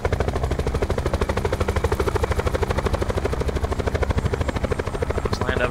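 Helicopter flying in the Blackout mode of Call of Duty Black Ops 4, a loud, close, steady rotor thump with rapid even chopping pulses and a whining engine underneath.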